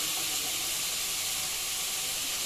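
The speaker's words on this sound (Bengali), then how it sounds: "এরপর ডালটা দিয়ে আমি খুব সুন্দর করে ভেজে নিব" Dal (lentils) frying in a pan with a steady, close sizzling hiss that runs without a break and has no voices over it.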